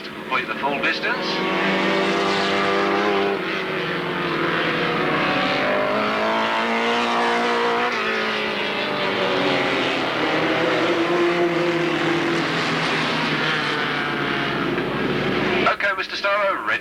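Race cars at an Alwalton race meeting drone past on the track with overlapping rising and falling engine notes, loud and continuous, while an announcer's voice runs over them.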